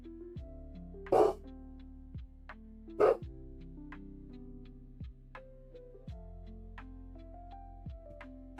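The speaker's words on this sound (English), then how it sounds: "I might have to go see what my dog's barking at" A dog barks in two loud bursts against a quiet room, with a few softer yips and whimpers in between.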